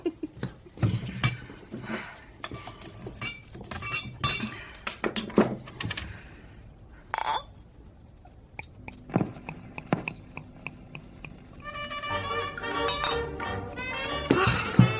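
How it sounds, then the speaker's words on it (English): A bottle of Guinness is opened and glass clinks, giving bright, sharp clinks and taps in scattered bursts, close and fairly loud, with brief rustling and soft handling noises in between. "You open the bottle."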